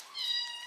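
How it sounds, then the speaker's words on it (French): A small kitten gives one thin, drawn-out meow, high and fairly soft, heard up close with nothing else over it. "J'ai un petit chaton."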